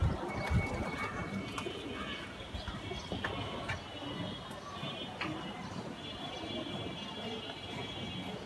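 Pigeons softly cooing after being released to fly, low repeated coos heard faintly against a busy outdoor background with distant ambient noise and occasional sharper sounds.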